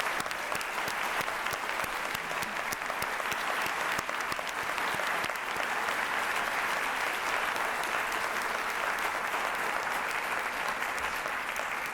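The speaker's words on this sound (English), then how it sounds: "So if we can give all of them a round of applause." Sustained audience applause for volunteer award finalists at a recognition ceremony, an even, steady roar of many hands clapping that continues for several seconds in a large room.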